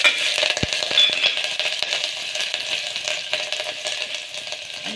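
Chilies with mustard seeds, cumin and asafoetida crackle in hot oil inside a pressure cooker, a steady dense spitter of small pops and sizzle, fairly close and loud for the whole stretch, with no talking.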